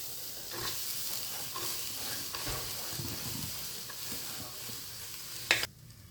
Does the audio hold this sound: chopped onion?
yes